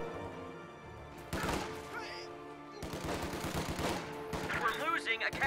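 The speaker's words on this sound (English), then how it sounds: "these grenadiers fall quite low to rifleman fire here on the cutoff" Rifle and machine-gun fire from a World War II real-time strategy battle with an MG42 squad, grenadiers and riflemen, rattling in bursts and staccato shots across the clip, loud and dense with some clanking effects, without talk.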